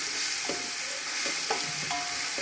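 Onions frying with ginger-garlic paste in a pan for coconut chicken biryani: a continuous sizzle broken by a few sharp scraping stirs of a spoon.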